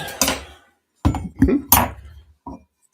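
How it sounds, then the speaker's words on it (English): Spoon set down on a rubber bar drain pad at a home bar, giving a few short dull knocks and clinks separated by pauses, close and fairly loud. "set my spoon down on my drain pad"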